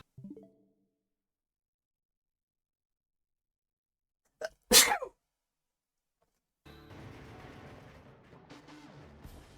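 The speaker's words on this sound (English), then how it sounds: "That was a lot of sneeze." A person sneezes once loudly and sharply after a brief small vocal sound, followed by quieter background noise from gameplay.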